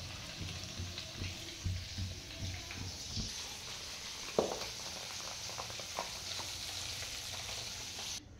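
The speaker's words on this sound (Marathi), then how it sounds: "या ठिकाणी 2 कढईमध्ये चाललेलं आहे माझं तूप." Ghee simmers in a kadhai on the stove, a soft continuous bubbling and crackle with a few clinks, fairly quiet and steady throughout.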